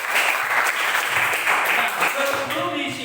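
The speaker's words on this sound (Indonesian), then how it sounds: "Sekali lagi tepuk tangan buat Ibu" Classroom applause for a teacher, a burst of many hands clapping together at close range, fairly loud and sustained before tapering off, with voices mixed in.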